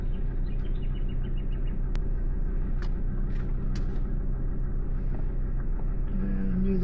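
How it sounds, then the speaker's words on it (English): A car reverses slowly out of a bush campsite onto a dirt road, its engine a steady low rumble with faint creaks and crunches on top, close and continuous, a voice briefly audible. "I've just got to reverse out of here, so I'll need to concentrate a little bit"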